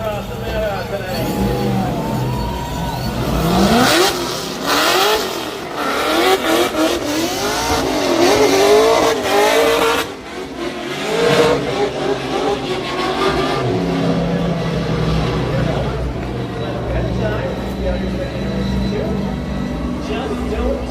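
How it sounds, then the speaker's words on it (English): A spectator drag race car making its victory lap at Elko Speedway, its engine revving and surging loudly with rising and falling pitch and some tire squeal, under an announcer's amplified voice and crowd babble. "You're going to make a victory lap for Samantha tonight."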